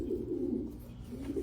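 A Nemelka-based racing pigeon hen with an apple-shaped body coos softly and low, in a steady murmuring run of throaty notes close by. No voices are heard.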